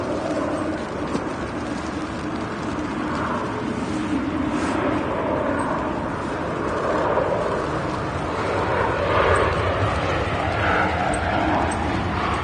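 An Etihad airliner at Manchester Airport gives a steady, fairly loud broadband jet roar that holds for the whole stretch and swells slightly toward the end. There is no talk over it.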